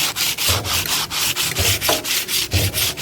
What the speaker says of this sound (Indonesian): Cara kita bersihin pakai amplas dulu ya bagian retakannya.